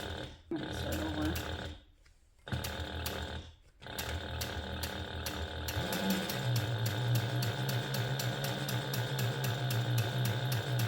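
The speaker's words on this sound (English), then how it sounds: "I'm just going to top stitch all the way along the top edge using a 1/8 inch seam allowance." A sewing machine topstitches along the top edge of a clear TPU and jelly vinyl pouch, giving a steady, fast mechanical whir with a couple of short pauses before running on continuously, close by.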